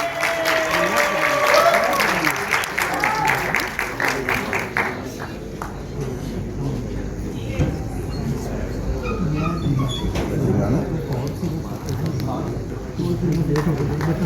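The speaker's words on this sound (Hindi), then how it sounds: "बहुत सी तालियां इनके लिए, प्लीज बहुत तालियां" Applause from an audience at a film launch ceremony, dense clapping at first that thins out over the following seconds, with voices talking over it.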